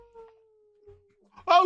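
A person imitates a howl with their voice, giving one long, steady, low wavering tone, then a short, louder, strained burst at the end.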